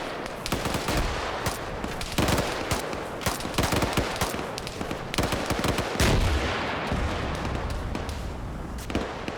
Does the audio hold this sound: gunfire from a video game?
yes